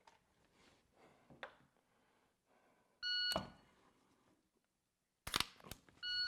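A shooting timer sounds a sharp electronic beep, repeated a few times with gaps of quiet between, alongside a couple of short mechanical clicks at a range drill.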